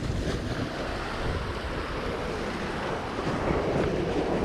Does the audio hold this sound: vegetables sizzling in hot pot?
no